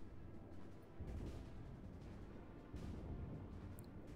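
Deep, muffled booms of heavy naval gunfire in World of Warships, from the Tirpitz and an approaching Cleveland, roll in a couple of bursts over a constant low rumble, sounding distant and heavy.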